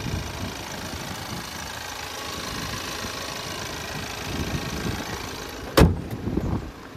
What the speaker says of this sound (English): But there's that 2-liter EcoBoost engine.